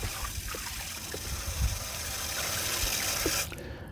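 Water pours steadily into a paint strainer bag filled with dirt while strawberry plants are being set out, a continuous trickling gush with a few soft handling knocks, stopping abruptly near the end.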